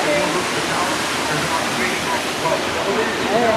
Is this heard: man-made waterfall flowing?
yes